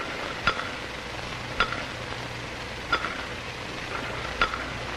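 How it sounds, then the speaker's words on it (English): A spoon stirs tea in a cup, clinking against the side four times at an even, unhurried pace, quiet and close over faint background hiss. "I can stir my tea so as to cause a circular motion."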